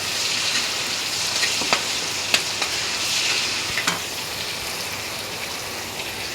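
Dried loitta fish (Bombay duck) frying in a pan: a continuous bright sizzle with a few sharp pops and light stirring scrapes, fairly close and steady throughout.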